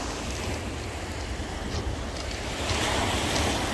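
Big sea waves crash continuously on a pebble beach at the Chkalovsky beach in Adler, Sochi, with a steady roar of surf under strong wind buffeting the microphone, swelling louder toward the end.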